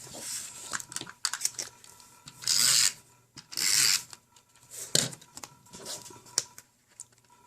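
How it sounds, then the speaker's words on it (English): A folded paper card has its crease burnished, giving several broad, sustained rubbing strokes with soft rasping bursts between quieter handling noises, close and fairly quiet. "Burnish the edge."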